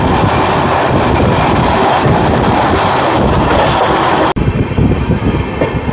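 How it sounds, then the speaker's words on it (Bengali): Humsafar Express train moving between Sealdah and New Jalpaiguri, a loud continuous rumble with rhythmic wheel clatter and wind buffeting, recorded from on board, with a brief dropout near the end before the roar resumes. "বাঁকুড়া ক্রস করছে ট্রেন"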